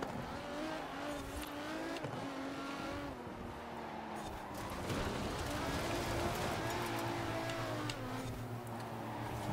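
A car in Forza Horizon 4 skids through bends, its engine droning and revving with shifting pitch alongside tire-squeal and gravelly slide noise, loud and continuous, with a voice occasionally heard beneath.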